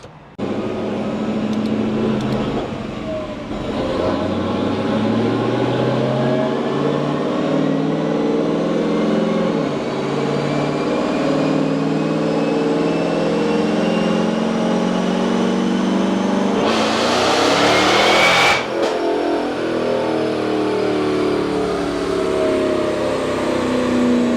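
A Dodge Charger Scat Pack on a dyno makes a full pull, its engine droning loud and steady as the pitch climbs through the gears, with a brief roaring surge near the end and no talk.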